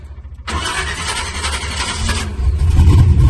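A Chevrolet Monte Carlo engine cranks briefly, then catches with a loud burst and settles into a deep, rumbling idle that grows heavier toward the end, close by with no talk.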